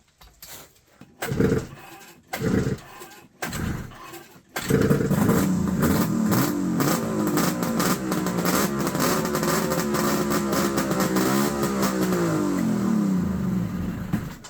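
A few short engine bursts give way to a snowmobile engine, recently fire-damaged, running steadily and revving loudly, its pitch rising and falling up close in a smoky space.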